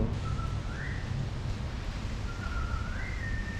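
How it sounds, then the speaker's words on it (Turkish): Someone whistles two short rising phrases, each a steady note sliding upward, set against a constant loud rush of wind noise on the University of Oklahoma campus. "Biri ıslık çalıyor."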